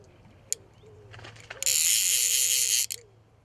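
A fishing reel ratchet on a fly rod clicks as a carp takes line at a lake, a loud continuous buzzing run of about a second set against quieter outdoor background with faint bird-like calls.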